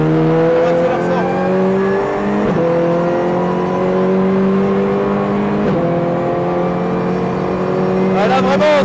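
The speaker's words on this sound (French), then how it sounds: "On accélère fort." A race car accelerates hard on a track, its engine loud and close, pitch climbing steadily with brief breaks at each gear change before revving higher again.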